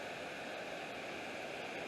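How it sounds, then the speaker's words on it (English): Rushing river pouring over rocks along the trail near Anna Ruby Falls in Georgia, a steady, broad hiss of flowing water, fairly faint and unbroken with no voices. "It's a beautiful rushing river coming down over rocks."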